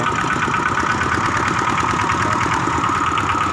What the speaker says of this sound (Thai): กำลังทดสอบเครื่องยนต์ครับ